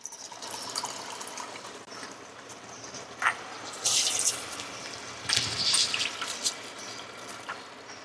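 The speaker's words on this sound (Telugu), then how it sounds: "వాటర్ అంతా వంపేసి" Water trickles and splashes in short bursts, poured out in a few separate gushes from a pot of half-boiled rice against a quiet background with light dripping between.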